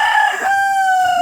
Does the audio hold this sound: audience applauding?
no